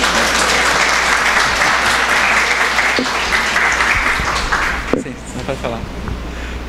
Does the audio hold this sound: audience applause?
yes